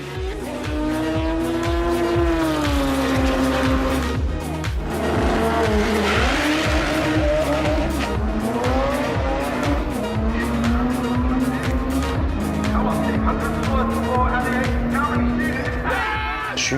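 A 1000-horsepower front-wheel-drive Honda Civic dragster launches down a quarter-mile drag strip, its engine screaming loud and continuous as the pitch climbs through gear changes, with tire squeal mixed in.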